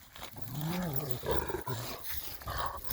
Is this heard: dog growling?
yes